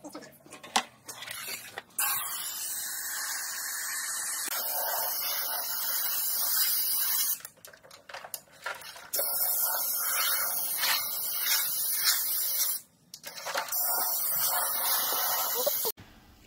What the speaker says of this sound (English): So it doesn't look like there's a whole lot when we're spraying this on